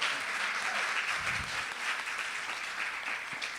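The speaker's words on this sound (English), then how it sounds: "Can we have another round of applause for Fawny?" An audience at a Sunday church celebration claps steadily, a broad even wash of applause held at a fairly constant level throughout, with no speech over it.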